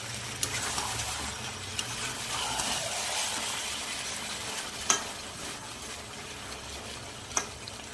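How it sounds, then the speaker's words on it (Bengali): Garam masala and roasted cumin powder being stirred into a dish in a pan, a soft steady sizzle with scraping strokes and a couple of sharper utensil clicks. "এখন গরম মশলা আর একটু ভাজা জিরার গুঁড়ো এই দুটোও দিয়ে দিব, একটু নেড়ে নিব।"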